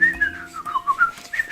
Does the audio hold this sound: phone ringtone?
no